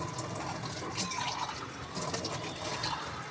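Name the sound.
water poured from a glass to rinse kitchen platform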